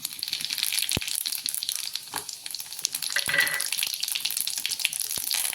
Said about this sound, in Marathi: आता आपलं तेल तापलेलं आहे, आपण यामध्ये मोहरी घालू.